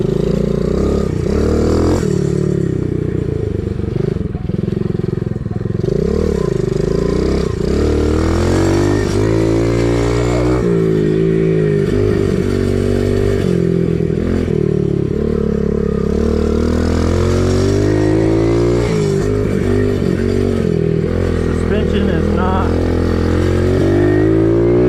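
A Kawasaki KLX110 dirt bike is ridden in laps, its small engine loud and close. It revs up and down repeatedly through gear changes and throttle bursts, sustained for the whole stretch.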